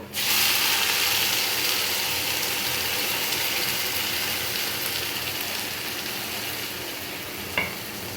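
Ginger-garlic paste with chili powder, cumin powder, salt and turmeric hits a hot pan and sizzles loudly, a dense, steady hiss that holds for several seconds and then eases slightly, with a small clink near the end.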